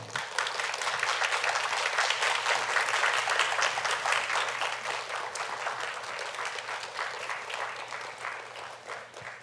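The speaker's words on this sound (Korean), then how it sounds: "특별한 따뜻한 박수로 환영하며 모시겠습니다" Warm applause from a church congregation welcoming performers for a special anniversary song, a dense, steady wash of many hands clapping that carries on for several seconds and slowly thins toward the end.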